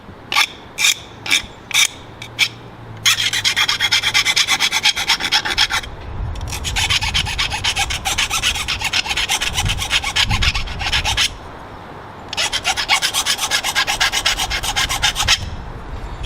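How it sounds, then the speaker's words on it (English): A hand file rasps in quick strokes against the edge of a homemade turkey call, first in short separate passes, then in long sustained bursts of scraping with brief pauses between them. "And you just keep on filing this down until you get it where it won't cut you."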